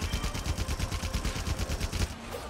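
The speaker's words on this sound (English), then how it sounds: "back to shooting at monsters" Rapid, rhythmic shooting at monsters in Monster Hunter Rise: a fast, even string of shots, loud and close, running almost without a break before stopping abruptly.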